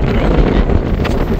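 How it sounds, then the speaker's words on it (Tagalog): Strong wind at a Swiss glacier buffets the microphone in a steady, loud roar with no voices. "Mahangin today, guys."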